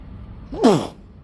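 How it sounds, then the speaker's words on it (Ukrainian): A woman sneezes once, a sharp nasal burst that rises and breaks off within a second, close and fairly loud over a quiet indoor background in a garden centre. "Вибачте, це я чихнула."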